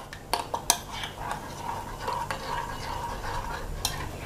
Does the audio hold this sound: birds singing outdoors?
no